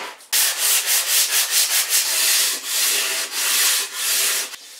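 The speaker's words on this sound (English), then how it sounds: "Just needs a little sanding now." Sandpaper rubbed back and forth over a wooden board for a boat's helm cabinet, a close, loud series of rhythmic strokes, quicker at first and then longer sweeps, with no talking.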